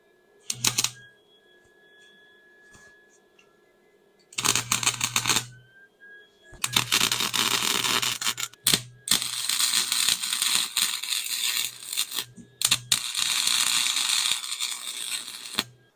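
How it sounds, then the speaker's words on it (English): Tack welding an expanded pipe on the driveline of a 25-year-old Mercedes S-Class produces several bursts of harsh, dense crackle and buzz, from brief tacks to longer runs of a few seconds, with quiet gaps between them. "Let's do some tack welds."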